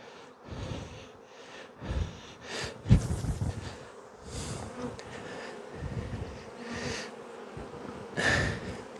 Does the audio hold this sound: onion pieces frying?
no